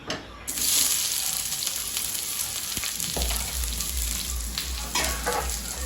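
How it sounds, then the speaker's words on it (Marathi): Onion roasting in oil on a hot tawa sizzles loudly and steadily close up, with a low rumbling hum joining partway through and no talk over it. "कांदा भाजून घ्यायचा आहे बघा तवा झालेला आहे गरम"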